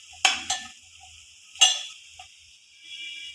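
Fenugreek leaves frying in a pan as a utensil stirs them, with a few sharp scraping strokes and clinks over a faint steady sizzle.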